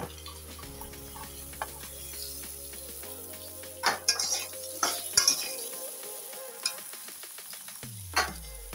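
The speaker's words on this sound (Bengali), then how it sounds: "এরই মধ্যে আমি পটলগুলো দিয়ে দিলাম। পটলটা একটু ভেজে নেব।" Pointed gourd frying in mustard oil, a soft steady sizzle with scattered stirring clinks and scrapes of a utensil against the pan, no talking.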